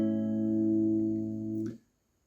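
An acoustic guitar plays a sustained chord from a song arrangement, an open A shape with an added ninth, ringing close and clear for over a second before it is damped and cut off.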